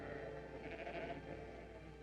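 A flock of sheep bleats in a dense, continuous wash of overlapping cries, moderately distant and blended with steady background noise.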